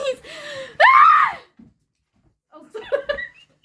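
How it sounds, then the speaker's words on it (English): A loud, sustained human scream rises sharply and holds for about a second, followed by silence and then a few short, breathy vocal bursts that could be gasps or laughter. "That was a good scream."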